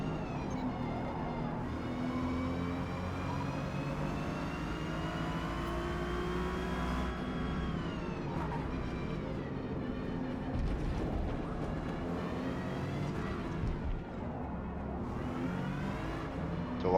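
Race cars roar past in Forza Motorsport S class racing at Grand Oak, a Porsche and a Corvette among them, engines howling and shifting pitch steadily throughout at moderate loudness.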